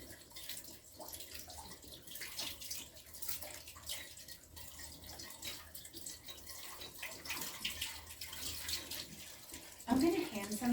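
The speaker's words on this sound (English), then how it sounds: "It might take a while to get all the dirt off. But you're just rinsing" Running water rinsing dirt off dandelion roots, a steady soft splashing wash that continues throughout, fairly faint and close, with a brief louder knock near the end.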